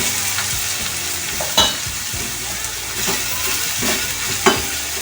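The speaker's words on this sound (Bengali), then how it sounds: "তেলটা আমার হয়ে গেছে, আমি এবার সবজিগুলো দিয়ে দিচ্ছি।" Vegetables for Bengali vegetable chop go into hot oil, a strong steady sizzle broken by a few sharp spatula knocks and scrapes against the pan, no speech.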